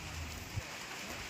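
Heavy monsoon rain falls in Bulandshahr district, a dense, even hiss of downpour on surfaces with a single soft thump, no voices.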